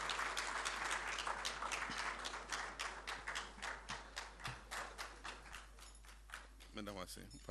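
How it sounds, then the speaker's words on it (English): Audience at a formal courtesy call with Ghana's President and the Asantehene applauds, a steady moderate patter of clapping that thins into separate, rhythmic claps toward the end, with a faint hum beneath. "A round of applause, please."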